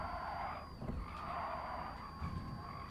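A car passing in the Gran Turismo Sport racing game, quiet and smooth with a thin, steady high-pitched whistle running over a low hum, drifting by at moderate distance without any talking.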